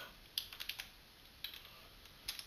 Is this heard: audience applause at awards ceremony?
no